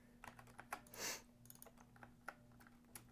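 Several quiet, scattered keystrokes on a Mac keyboard, with one longer soft swipe near the middle, in a near-silent room.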